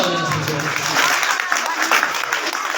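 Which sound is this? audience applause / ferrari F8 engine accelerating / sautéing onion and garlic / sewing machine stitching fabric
audience applause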